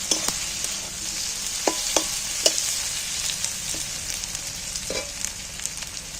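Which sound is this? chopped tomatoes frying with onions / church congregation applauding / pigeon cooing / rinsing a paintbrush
chopped tomatoes frying with onions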